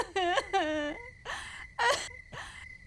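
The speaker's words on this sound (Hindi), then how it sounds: "कुएं से बच्चों की हल्की रोने की आवाज आती है।" Children's crying drifts up from a well in a haunted school: a series of short, wavering whimpers and wailing sobs, separated by brief pauses.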